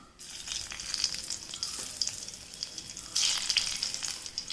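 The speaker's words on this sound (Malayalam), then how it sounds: "ഇനി ഇതിലേക്ക് 2 വറ്റൽമുളക് ഇട്ട് കൊടുക്കാം." Fennel seeds and two dried red chilies sizzle in hot oil in an iron pan, a bright, steady hiss that flares louder partway through, heard up close with no talking.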